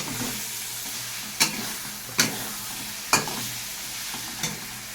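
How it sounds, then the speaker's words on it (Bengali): Spice paste for a fish curry being stirred and fried in oil, a steady sizzle under a handful of sharp scraping strokes of the spoon spaced about a second apart, close and moderately loud. "এদিকে আমার মশলাটা বেশ ভালো করে কষানো হয়ে গেছে"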